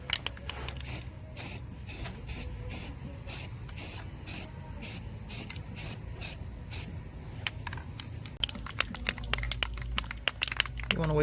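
Filler and sandable primer spray from an aerosol can in a run of short, regular hissing bursts, close and loud. Crinkling and rubbing noises take over near the end.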